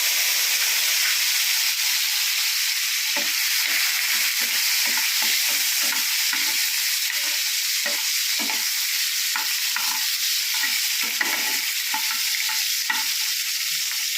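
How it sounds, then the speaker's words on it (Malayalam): Mustard seeds crackle and pop in hot oil for a spinach sambar, a steady bright sizzle with scattered sharp bursts of spitting, close and loud with no talking. "കടുക് അങ്ങോട്ട് ഇടുമ്പോഴേ പൊട്ടും"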